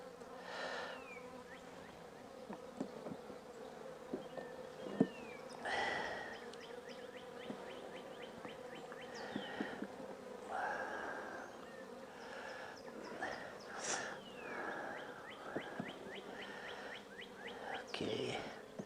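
Honeybees buzz steadily and close by as frames are shaken into mini mating nucs, a dense drone with brief louder bursts of bees and a few knocks of the frames.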